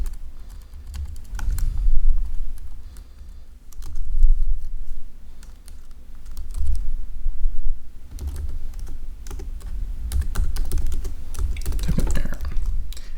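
Rapid clattering keystrokes from JavaScript code typed on a computer keyboard, close and steady with short bursts and brief pauses, no voices.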